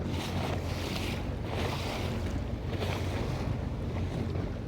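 A Sea-Doo Fish Pro watercraft runs over small waves at sea, its engine a steady drone under rhythmic swells of water and strong wind buffeting the microphone, with no one talking.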